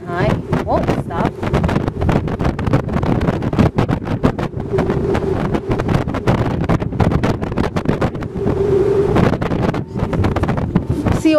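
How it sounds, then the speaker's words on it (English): Strong wind buffets the microphone on the open deck of a cruise ship, a loud, steady roar throughout with voices talking over it. "You can see how strong the wind is."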